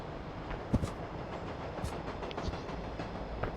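A train passes in the video game Human Fall Flat, a steady rumbling rail noise with faint clicks, continuous and mid-level with no talking.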